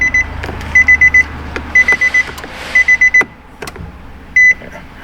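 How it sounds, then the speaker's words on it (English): Warning chime from a Nissan Sentra with the key on, repeating in clusters of three to four sharp beeps with short gaps, loud and close over a low background hum. "we gotta learn how to make the beeping stop."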